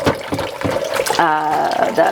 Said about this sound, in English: I generally only do this, like wash it this vigorously, if it's a product like this that is really messy